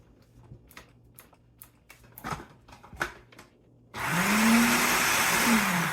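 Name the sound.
food processor pulsing beans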